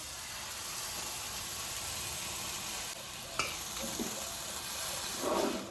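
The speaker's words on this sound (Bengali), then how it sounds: "আমাদের মশলা তো ভাজা হয়ে গেছে এবার আমরা এই পেস্টটা দিয়ে দেবো এর মধ্যে" Spice paste fries with already-fried coriander and cumin powder in a pan while cooking palak paneer, giving a steady, close sizzle with a few faint stirring clinks.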